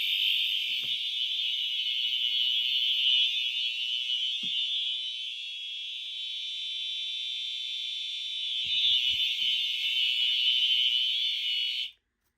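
A fire alarm sounds continuously during a system test, a loud, steady high-pitched electronic tone that holds unbroken for about twelve seconds before cutting off abruptly, with a few faint clicks and knocks underneath.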